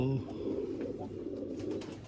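Aged Sialkot pigeons in a Jammu loft give low rolling coos throughout, close and steady, while a voice seems to talk over them.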